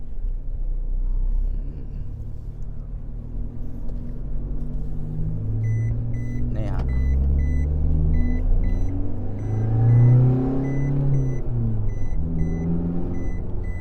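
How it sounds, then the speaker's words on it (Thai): The 1.9-litre diesel engine of a 2022 Isuzu D-Max pickup truck rumbles low, then rises in pitch as it accelerates, with faint beeping in the background and no voices. "เสียงเครื่องยนต์นี้เพาะๆเลย"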